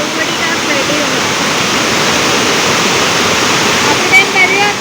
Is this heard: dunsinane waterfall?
yes